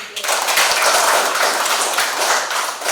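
Clapping for a child's reading of a story, a close, loud flurry of hands clapping together in a small room, dense and steady for a few seconds.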